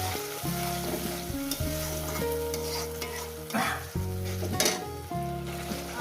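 Ground spice paste for a Bengali fish curry, thinned with water, fries and is stirred in a pan, sizzling under prominent background music with occasional scraping stirs.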